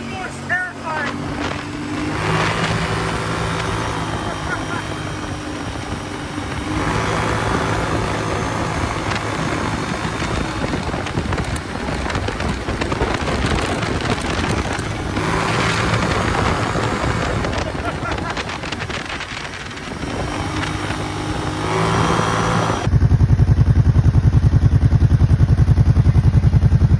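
A Kawasaki Brute Force 750 ATV engine runs loud and near for a long stretch, its rough, throbbing drone rising and falling with throttle. Wind buffets the microphone, a voice speaks, and the engine note shifts sharply near the end.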